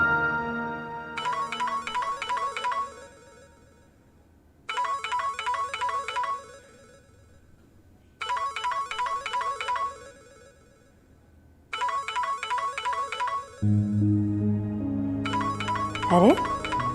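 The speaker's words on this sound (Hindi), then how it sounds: "खाला आपका फोन आ रहा है" A mobile phone ringtone plays in four repeated melodic bursts separated by short pauses; near the end, voices and room sounds come in under the last ring.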